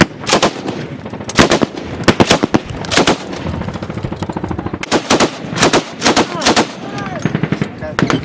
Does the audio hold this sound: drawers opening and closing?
no